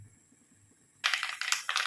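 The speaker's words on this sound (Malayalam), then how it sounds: "കടുക് ഒന്ന് പൊട്ടി വരട്ടെ" Quiet for a second, then a burst of rapid crackling and popping, dense and close, as mustard seeds spit in hot oil.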